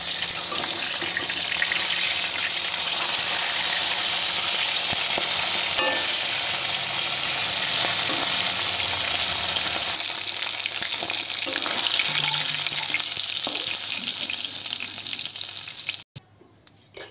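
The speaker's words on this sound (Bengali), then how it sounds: "মাছগুলো যতক্ষণ ভাজা হয় ততক্ষণ আমি সবজিগুলো কেটে নিই" Fish frying in a pan gives a steady, loud, close sizzle that runs unbroken for about sixteen seconds, then cuts off abruptly, leaving only a brief faint clatter.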